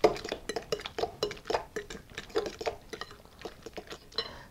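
Homemade guacamole mixed in a bowl with hot chili added, a spoon scraping and tapping in a quick irregular rhythm of soft clinks and mushy squelches, close and fairly quiet with no talk.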